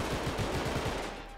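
Gunfire in Garry's Mod, a dense burst of rapid shots filling the whole moment with a rough, loud low-end rattle that thins out toward the end.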